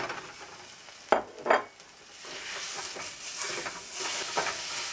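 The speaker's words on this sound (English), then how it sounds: "And just brown your hamburger meat." Half a pound of hamburger meat browns in a pan with a soft steady sizzle and hiss, broken early by two brief scraping stirs of a utensil against the pan.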